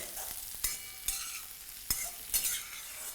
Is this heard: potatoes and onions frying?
yes